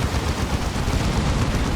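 Hurricane bolters and a twin-linked assault cannon roar in a dense, continuous barrage of rapid gunfire during a Dawn of War 2 battle.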